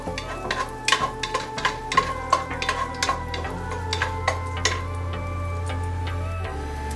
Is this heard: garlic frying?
yes